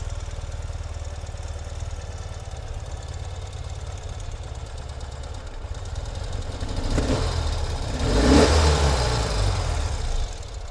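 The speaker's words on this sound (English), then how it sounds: "I have my hand on the exhaust. It's actually getting warmer quickly. The bike sounds awesome." Indoors, a 2020 Ural Gear Up motorcycle engine runs steadily just after a cold start, a close low thumping idle that swells briefly louder near the end as the throttle is opened.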